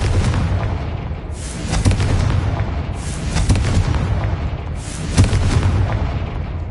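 Repeated booming blasts of the Confringo fire spell in a Hogwarts video game, heavy explosions rolling one after another with a sharp burst every second or so, loud and close with no talking.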